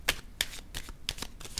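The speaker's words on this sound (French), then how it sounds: "Je vais déposer une carte sur celle-ci." Tarot cards are handled and laid down in a quiet room, giving a quick series of soft, crisp flicks and slaps about every third of a second, faint and close.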